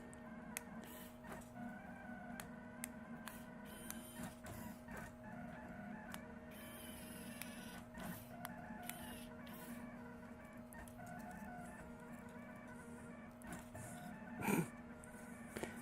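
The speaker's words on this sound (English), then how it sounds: "The printer does such a cleaner job than I can." A 3D printer laying down white PLA filament gives off a steady whir with a constant tonal hum and faint stepper-motor ticks. The sound is soft and continuous, and there is one brief louder squeak near the end.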